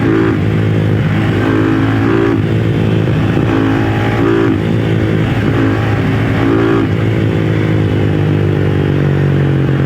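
A homemade motorcycle engine revs loud and close, held below full throttle, its rough clattering drone rising and falling in steady surges with no voices over it.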